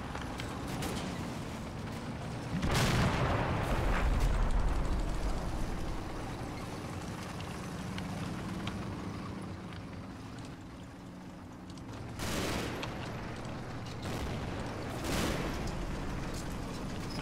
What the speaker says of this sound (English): Definitely getting mortar fire here though